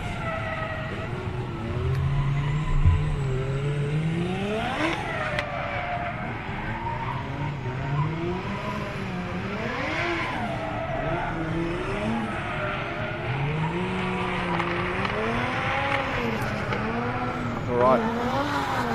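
Drift cars scrub their tyres at a DriftWars event at Manfeild, with long, wavering tyre squeals and engine revs over about twenty seconds, heard close and loud with talk mixed in.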